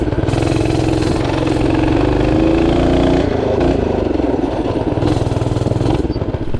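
A Tillotson 212R race engine on a mini bike runs loud and close, holding a rough, steady drone with small rises and dips in revs and no voices.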